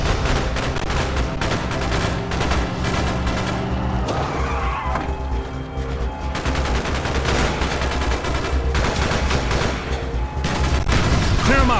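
Dense gunfire in a Call of Duty: Black Ops street fight, loud rapid bursts and rattling shots layered almost continuously with engine and battle noise, soldiers shouting over it.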